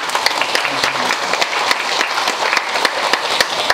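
A church congregation claps for a member of the congregation back for a visit. The applause is dense and fairly close, with sharp individual claps poking through, and a voice can be heard faintly underneath.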